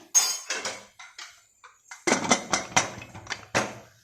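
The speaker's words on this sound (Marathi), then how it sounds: "आता आपण कुकरचं झाकण लावूया" A metal pressure cooker lid is set on and fitted, giving a series of sharp metallic clanks and clinks, some in quick bursts, close and clear.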